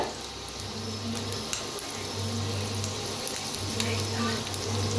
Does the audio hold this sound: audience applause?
no